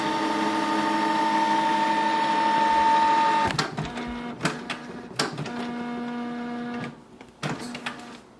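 Canon Pixma TR4750i inkjet printer running: a loud steady mechanical whir with a high tone for about three seconds, then a series of clunks, clicks and short motor bursts as the paper feed stops and restarts.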